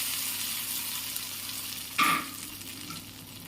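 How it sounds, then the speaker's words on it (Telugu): Tempering for peanut chutney sizzling in hot oil, a soft steady frying hiss with a sudden louder burst of sizzle as something hits the pan, no talk. "ఆ తర్వాత దీనికి పోపు పెట్టుకున్నాను."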